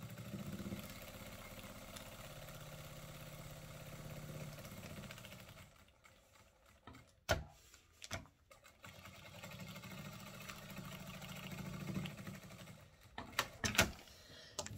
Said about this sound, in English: I'm just stitching sort of around about a quarter inch from the edge of that cut line